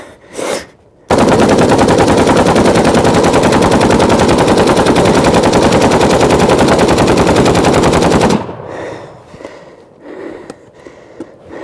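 An AK assault rifle fires one long, loud, unbroken automatic burst of about seven seconds. A couple of brief sounds come before it, and faint handling noises and rustling follow.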